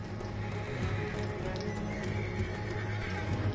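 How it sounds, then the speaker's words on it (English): Horses neigh and whinny over a steady rumble of clip-clopping hooves in Red Dead Redemption 2 video game, loud and close, with a continuous low background drone. "Let's get to those horses, Morgan."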